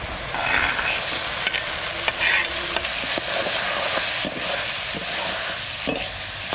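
Katla fish curry with wild bamboo potato sizzles steadily in the pan as fried fish heads are added, with repeated scraping stirs punctuating the constant frying hiss and no talk over it.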